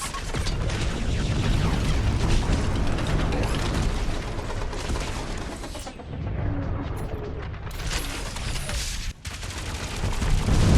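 Heavy gunfire in Marvel's Guardians of the Galaxy: dense, continuous rattling bursts with mechanical clatter, loud and sustained, broken by two brief pauses before resuming.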